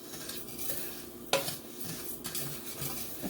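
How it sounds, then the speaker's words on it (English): Sugar and cinnamon being stirred in a pan, with soft scraping and a light sizzle under one sharp clink of a utensil against the metal and a few quieter knocks. "we're just going to stir this around so all the sugar and cinnamon gets evenly coated"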